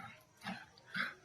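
A young female Labrador mix puppy gives two faint, short whimpering yips about half a second apart in a quiet setting, with no voices.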